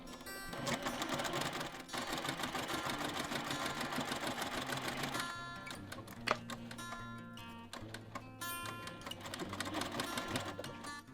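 A sewing machine stitching bias binding onto a quilt with a quarter-inch seam allowance, a rapid close mechanical whirr and clatter running in bursts with brief slowdowns.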